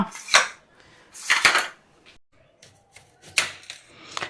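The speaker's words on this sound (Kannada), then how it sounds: "ನಾನು ಫಸ್ಟ್ ಸಿಪ್ಪೆ ತೆಗೆದು ಬಿಡ್ತೀನಿ" Knol khol being peeled with a knife, a few close sharp scraping and clicking strokes in short bursts separated by quiet gaps, no voices.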